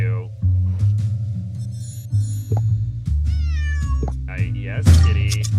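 A cat in a Nancy Drew Dossier video game meows repeatedly, a series of distinct, loud, close cries over a game's music bed and effects.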